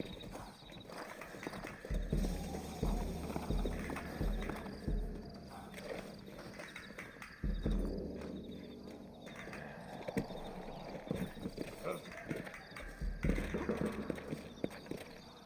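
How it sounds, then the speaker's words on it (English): Horse hooves clop in an uneven walking rhythm, fairly close, with faint snorting and little else around, in the video game Red Dead Redemption. "Looks like Carlos left us some horses."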